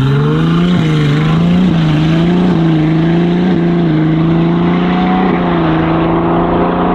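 Loud, sustained drone of a Novitec-tuned Ferrari 296 GTB exhaust, holding a steady deep tone with brief dips and small rises in pitch, close and alone throughout without any talk.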